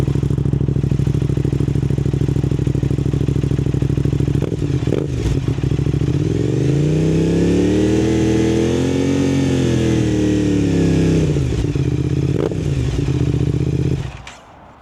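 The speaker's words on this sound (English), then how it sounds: "Very bassy sound there from the Powertech exhaust." An Aprilia RS660 motorcycle with a Powertech aftermarket exhaust idles with a deep, bassy note, revs up and back down in a smooth swell, then cuts off near the end.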